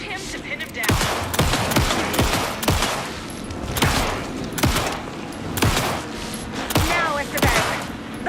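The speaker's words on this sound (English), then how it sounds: "Shoot him to pin him down." In Alan Wake 2, gunfire rings out as sharp, loud shots at a steady, uneven pace, about a dozen cracks spread across the stretch over a rumbling game-sound bed.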